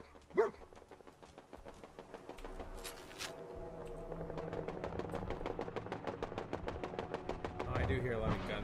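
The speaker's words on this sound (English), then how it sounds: "do hear a lot of gunfire off in the distance" Rapid bursts of distant gunfire crackle in the Fallout 4 video game, a fast rhythmic volley building steadily over several seconds, faint and far off, with a brief sharp sound at the start and quiet talk mixed in.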